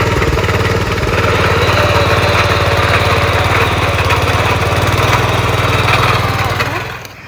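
A rope-started farm tiller engine runs in a field, a loud, steady, close-up chugging drone with a fast, even beat that holds throughout and then drops away at the end.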